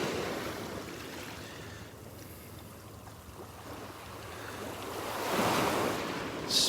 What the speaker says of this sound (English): We need these waves to kind of pull these shells down